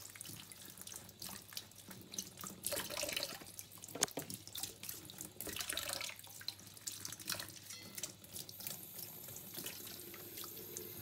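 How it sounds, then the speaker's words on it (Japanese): Running tap water washing fresh butterbur buds (fukinoto) in a kitchen sink, a steady faint stream splashing and dripping with small irregular bursts as the buds are rinsed, no talk. "土がついてるといけないのでちょっとよく洗います"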